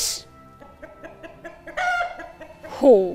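Rooster in a stage play clucking in short bursts, then rising into a loud crow at the end, with a brief spoken word early on.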